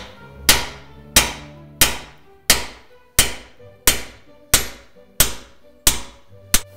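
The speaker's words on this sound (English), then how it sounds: "Take a 3-pound hammer." A 3-pound hammer strikes repeatedly at a lower ball joint on a 1995 Chevy Suburban, ten sharp metallic blows at an even, roughly two-per-second pace, loud and close with ringing decay between hits and no talking.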